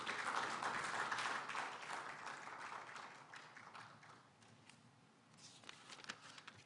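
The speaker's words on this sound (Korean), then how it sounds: "박수로 맞이해 주시기 바랍니다." At a science and technology forum's founding ceremony, an audience claps steadily in a faint, roomy patter that thins out as it goes on.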